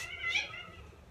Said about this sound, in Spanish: Mi gato está jugando, pero se escucha mucho.